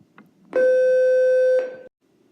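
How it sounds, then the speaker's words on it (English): A loud, sustained electronic beep sounds alone for about a second, a steady pure tone with a sharp onset, then cuts off into quiet. "Sorry about that loud beep."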